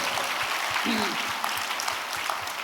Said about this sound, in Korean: Let's clap our hands for him.